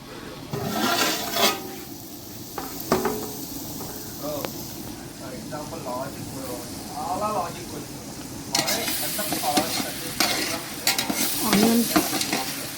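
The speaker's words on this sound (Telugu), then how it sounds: "మనం మూత పడదాం కొద్దిసేపు కుక్ అవుతాం సాల్ట్ వేయడం వల్ల ఏంటి అంటే తొందరగా ఆనియన్స్ ఫ్రై అవుతాయి అన్నమాట" Onions with salt fry in a covered pan in a home kitchen, giving a steady close sizzle with stirring scrapes and clatter throughout, and someone talking over it in places.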